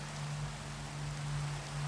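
Rain falls in the video game Mana & Brass, a steady soft hiss of drops over a low constant hum, continuous and fairly quiet with no talking.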